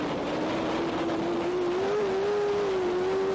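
Racing sidecar outfits braking hard for the chicane at Le Mans during an FIM Sidecar World Championship race, a loud continuous engine drone whose pitch slides and holds steady across the moment, no talk over it.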